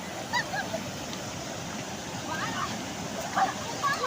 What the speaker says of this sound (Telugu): ఆ నీళ్ళు వస్తుంటే అలలకి ఆ సౌండ్కి చాలా భయం వేస్తుంది